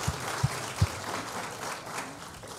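Small audience at a ghost-story gathering giving a round of applause, moderately faint clapping with a few low thumps early and a brief cheer mixed in.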